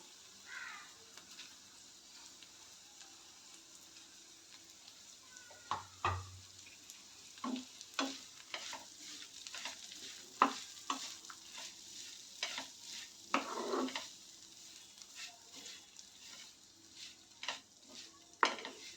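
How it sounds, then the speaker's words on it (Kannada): Sprouted fenugreek seeds fry in oil in a pan, a faint soft sizzle beneath irregular scraping and clinking stirs of a spoon against the pan, growing busier and louder toward the middle and end. "ನೋಡಿ, ನಾನು ಮೆಂತ್ಯ ಹಾಕ್ತಾಯಿದ್ದೀನಿ. ಇವು ಸ್ವಲ್ಪ ಫ್ರೈ ಆಗಬೇಕು."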